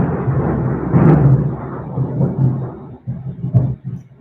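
Deep, rolling thunder from a large storm rumbles continuously behind a person, heavy and close, swelling and fading over a few seconds.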